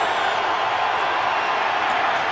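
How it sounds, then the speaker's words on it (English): Heinz Field crowd at a Ravens–Steelers NFL game chanting "defense" on second down, a steady, dense roar of many voices filling a large open stadium, heard from a distance. "this Heinz Stadium crowd chanting defense on second down and 9 at the 16"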